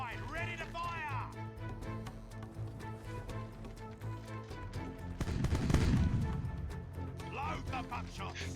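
Ship cannons fire in the naval video game Sea Dogs, a rapid series of sharp booming shots with one heavy rumbling blast near the middle, heard under voices that call out orders.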